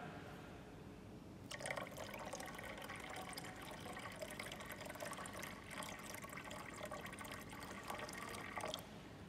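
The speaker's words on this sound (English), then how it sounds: "So we'll add in more water" Water gushes steadily into a tank during a hydrostatic pressure experiment, a continuous splashing pour that starts abruptly, runs for several seconds and then stops.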